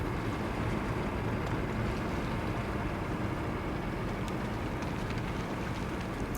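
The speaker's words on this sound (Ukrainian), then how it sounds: "Що за звук хлюпання?" Water splashes and sloshes around a vessel drifting through dark water in the REANIMAL game, a steady dense patter with faint scattered clicks, continuous and moderately close with no speech.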